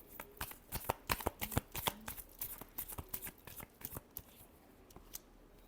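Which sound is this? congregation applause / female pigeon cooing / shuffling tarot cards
shuffling tarot cards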